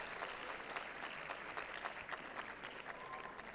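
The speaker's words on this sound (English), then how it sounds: "who should get a nice warm applause as she makes her way off court" Warm applause from a tennis crowd in Hobart as the Dutch qualifier Richel Hogenkamp walks off court after losing 7-6, 7-6 to Daniela Hantuchova; steady, dense clapping that fills the whole stretch without pause.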